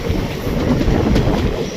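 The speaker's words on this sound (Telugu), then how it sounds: "అయ్యో బాబోయ్ చాలా పెద్ద గూడ్స్ బండి." A large goods train with closed box wagons rumbles steadily past nearby, its loud continuous low roar and wheel clatter filling the short stretch.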